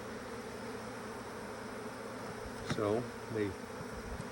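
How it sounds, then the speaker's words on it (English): Honeybees hum in a steady dense drone after being shaken from a hive frame during an April queen replacement in Alaska, with a louder buzzing pass or two close by and a brief word spoken. "There's a lot of bees right here on this end frame. So I'm just going to shake them right there into the middle."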